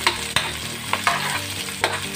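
White onion and garlic sizzle in hot oil in a pan, with a steady frying hiss broken by several sharp stirring scrapes and clacks.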